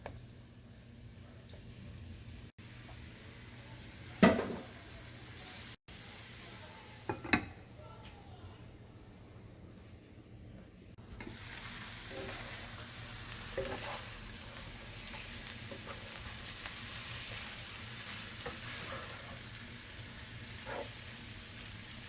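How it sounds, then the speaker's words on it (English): Meatballs browning in a frying pan, a soft continuous sizzle with a few sharp clinks of utensil against the pan, growing fuller and louder partway through; no talk. "So now we're gonna brown our meatballs."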